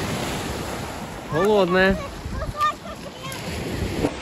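Black Sea waves wash onto the shore at Adler near Sochi, giving a steady rushing surf under gusty wind noise, while a voice speaks briefly over it.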